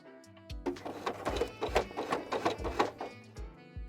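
Sewing machine stitching fleece fabric in short, rhythmic bursts of needle strokes, close and clear, starting and stopping as the cloth is turned slowly, with no talking.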